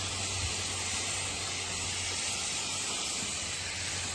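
A steady, close hose spray hisses continuously as water rinses a cleaned Jeep Wrangler YJ wheel, a broad, even rush of water with no talk.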